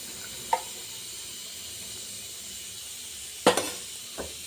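Sauce poured into a hot frying pan gives a faint, steady sizzle, broken by a few sharp scrapes and clinks from a stirring utensil against the pan.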